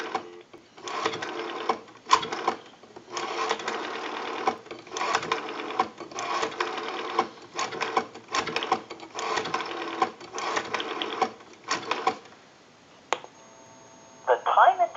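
A rotary dial desk telephone, repaired and converted, dials a number: bursts of rapid mechanical clicking pulse out one after another with short pauses between digits, then a steady tone and a brief ring-like warble close to the end.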